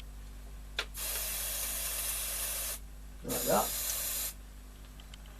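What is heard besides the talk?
aerosol spray on tape recorder mechanism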